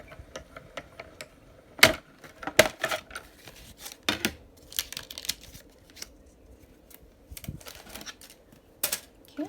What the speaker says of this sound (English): the mini Stampin' Cut emboss machine